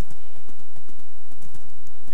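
A horse trots along in Minecraft, its hooves clip-clopping in a regular, fairly loud rhythm of paired knocks over a low outdoor background, with no talk.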